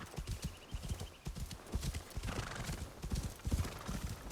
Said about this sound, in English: A poor horse.